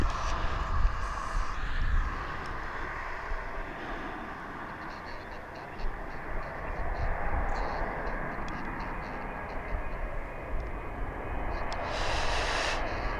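Distant jet airliner taking off at East Midlands Airport, a faint steady roar and rumble that builds slightly, heard from afar with light handling noise.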